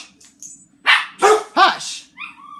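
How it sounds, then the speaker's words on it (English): Indoor dogs bark close and loud, three sharp barks in quick succession followed by a short whine. "Excuse my dogs."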